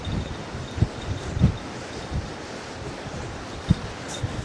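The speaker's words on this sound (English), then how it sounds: "wind's picking up" Wind gusts across the water at Poole Harbour during a stormy fishing outing, a steady broad rush with low buffeting thumps on the microphone and no voices.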